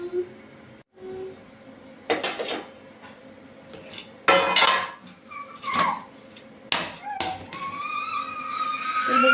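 A knife slices steamed aluwadi, rolled colocasia leaves, into thin pieces on a kitchen board, giving a series of separate sharp cuts and knocks with short quiet gaps between them.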